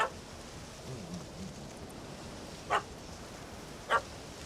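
A dog barking at a cat in The Witcher 3, two short distant yaps spaced about a second apart over a steady soft outdoor hiss.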